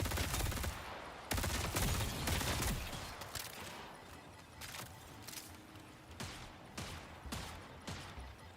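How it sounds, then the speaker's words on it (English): Video game gunfire crackles in bursts: loud volleys of rapid shots at first, then scattered, quieter cracks and short rattles that trail off across the clip. "Yo, who the fuck is shooting?"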